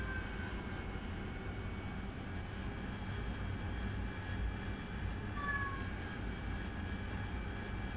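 Steady whining roar of an AV-8B Harrier jet engine during air-to-air refueling over the Persian Gulf in DCS World, a constant loud drone with a faint high whine that rises briefly near the end.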